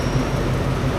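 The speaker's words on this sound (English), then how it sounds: "Sounds like the train." A train pulls into a station platform on a modernized railway between Vientiane and Nong Khai, heard as a loud, steady low rumble and rolling drone with no voices over it.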